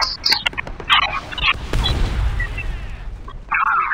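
A deep boom and sharp gunfire bursts from the video game War Thunder Mobile ring out among scattered game sound effects, loud and close.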